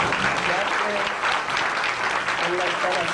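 A crowd applauds loudly at the inauguration of a traffic light in Pedernales, with dense, sustained clapping close by and voices mixed in underneath.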